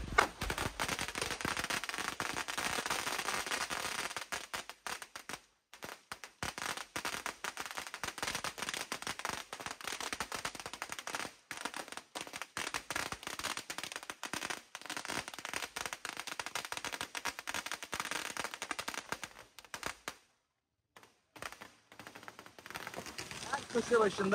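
Firecrackers exploding in dense, crackling bursts at the Phuket Vegetarian Festival, a long loud near barrage of rapid pops with brief lulls, people talking underneath.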